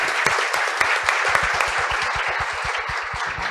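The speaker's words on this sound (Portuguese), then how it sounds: "Uma salva de palmas." An audience applauds someone who tested a sharpening machine, with broad applause overlaid by a fast, regular run of close, loud individual claps driving a steady rhythm.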